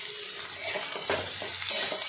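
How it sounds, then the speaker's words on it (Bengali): Jackfruit sizzles faintly with salt in a pan, with soft scraping and stirring strokes over a low steady frying hiss, close by and quiet, with no talk. "নুন দিয়ে একটু নাড়াচাড়া করে নিই"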